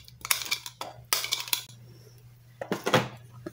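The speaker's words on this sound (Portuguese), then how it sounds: "Vou triturar meu alho aqui. Aqui no meu triturador." Garlic cloves, four of them, crushed in a small hand chopper: bursts of clattering, clicking and rattling from the plastic and blades, in three quick rounds with quiet gaps between them.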